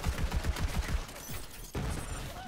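Rapid bursts of gunfire in the shooter game Borderlands 3, a quick run of sharp repeated shots followed by a single heavier blast and a lingering rumble.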